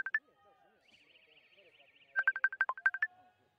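A mobile phone rings with an incoming call during live skating race commentary: a brief electronic chime, a sustained warbling tone, then a quick run of about eight bright beeps, close and clear.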